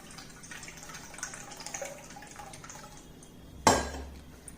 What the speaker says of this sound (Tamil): தண்ணி வந்து 1 கப்பு தண்ணி போறோம்.